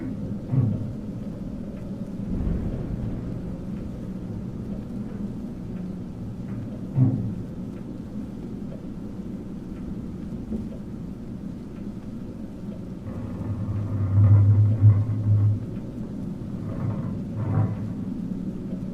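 Low thunder rumbling from a storm in the horror game Darkness Within, distant rolls recurring every few seconds with a stronger swell late on, over a quiet steady ambient bed with no voices.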